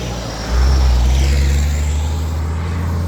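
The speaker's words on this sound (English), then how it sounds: "Just wait for this truck to go by." A truck on a road in Costa Rica near construction work rolls closer with a sudden swell of deep engine rumble and tyre roar. The sound stays loud and close, then eases only slightly as it goes by.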